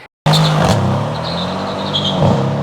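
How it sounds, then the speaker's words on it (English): Mercedes C63 S AMG spinning its wheels, a loud engine roar with squealing tyre slip that starts abruptly after a brief silence and holds steady, close and dominant throughout. "And it's going to let you spin the wheels. It's going to give wheel slip."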